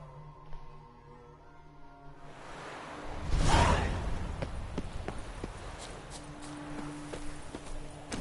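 Roach, the horse in The Witcher 3: Wild Hunt, breaks into a gallop with a whooshing rush of movement and rhythmic hoofbeats, set against faint ambient game music.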